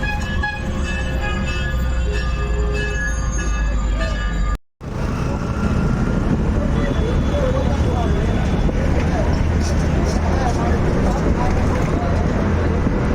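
Interior of a moving bus in heavy traffic heading toward Howrah station, a dense steady rumble of engine and road noise, broken by a brief cut, with people talking.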